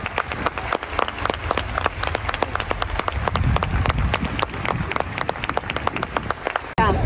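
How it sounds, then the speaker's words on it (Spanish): A large outdoor crowd in England claps steadily and loudly as a car passes. The applause is dense and continuous, with a few faint voices mixed in, and it drops off abruptly near the end. "Ha pasado el coche y todo el mundo se ha puesto a aplaudir"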